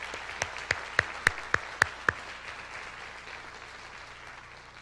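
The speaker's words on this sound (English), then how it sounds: "let's give Lydia a nice round of applause" At a high school senior awards night, a soft bed of audience applause is punctuated by several sharp, close individual claps in quick succession before the clapping tapers off into quiet room tone.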